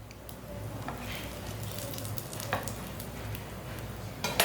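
Breakfast frying in a pan over a low stove flame, a steady soft sizzle with occasional light stirring scrapes and clicks, close and fairly quiet throughout.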